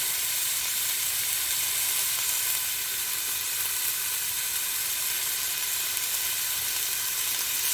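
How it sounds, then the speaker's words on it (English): Chopped onion sizzles steadily in vegetable oil in a pot, a soft, even frying hiss that holds without break throughout. "I'm going to put in a whole chopped onion into my pot"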